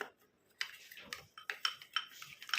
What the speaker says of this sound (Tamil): ஊற்றிட்டு இதை வந்து மிக்ஸ் பண்ணிக்கலாம்